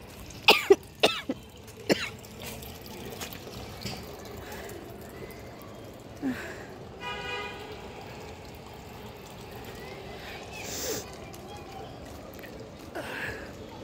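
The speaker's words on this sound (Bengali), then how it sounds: "সরি আমার অনেক কাশি আসতেছে" A person with a cold coughs on a breezy rooftop. A quick cluster of four or five harsh coughs comes first, then a single cough later, over faint wind and background noise.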